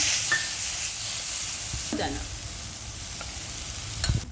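Grated potato, crushed peanuts, chilli and cumin stirred in frying oil: a soft, steady sizzle under occasional scrapes of a spoon against the pan, fairly quiet and close.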